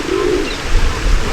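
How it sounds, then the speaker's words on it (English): Pigeons cooing in a park, a low soft coo rising briefly near the start over steady outdoor background noise and low rumble. "We also have lots of pigeons here."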